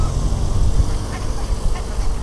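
Running geese honking amid loud outdoor noise and wind rumble, a few scattered calls breaking through a busy, muddled background.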